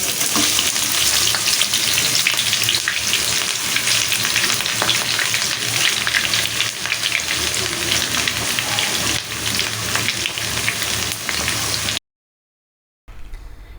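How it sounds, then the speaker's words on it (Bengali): Chopped onions frying in hot soybean oil for nihari and being stirred, a loud continuous sizzle with scraping stir sounds throughout, cutting off abruptly near the end. "কিছুক্ষণ সময় নিয়ে নেড়ে চেড়ে এখন এই পেঁয়াজগুলি ভেজে নিতে হবে।"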